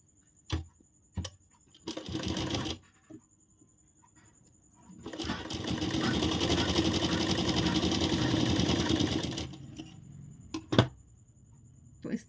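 A sewing machine stitches a princess-cut blouse, with a short burst early on and then a longer steady run of about four seconds, framed by sharp clicks and handling knocks in a quiet room.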